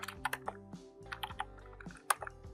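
Quick bursts of computer keyboard typing, irregular clicks close by over a faint musical background, with no talk.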